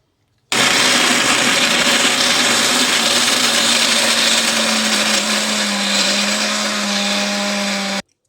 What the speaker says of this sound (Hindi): तो अब बादाम मिक्सी में डाल लें